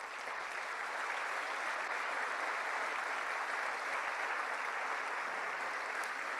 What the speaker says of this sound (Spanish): Le damos un fuerte aplauso a ellos